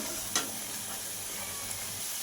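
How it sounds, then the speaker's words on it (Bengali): Spice paste frying in butter in a pan while crab kasha is cooked, a steady soft sizzle with a few brief spatters, close and without speech. "সব মশলাটা আমি ভালো করে কষিয়ে নেব কিছুক্ষণ"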